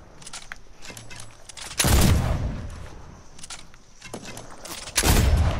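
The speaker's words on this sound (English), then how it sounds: "Thank you for shooting at me." Gunfire in a sniper video game, with two loud, close broadband shots roughly three seconds apart over a busy background of game effects.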